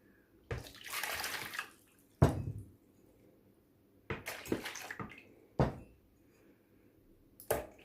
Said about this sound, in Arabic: نضيف المواد السائله. عندي المي كلش دافي